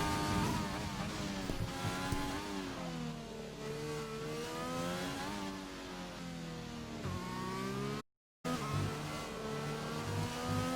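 Onboard a race car on its first lap, the engine howls close and loud, pitch climbing through gears and dropping on downshifts, with a brief dropout near the end before the revving resumes.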